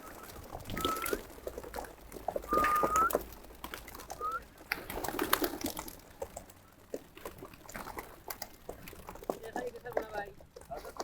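Racing pigeons released from a toss box: scattered bird calls and coos with bursts of fluttering and rustling, mixed with ongoing talk.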